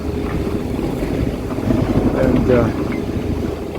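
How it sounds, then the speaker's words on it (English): A CS36 Traditional sailboat motors along at about five knots through building swells, its engine a steady low drone under wind buffeting the microphone and someone talking. "I have the motor running"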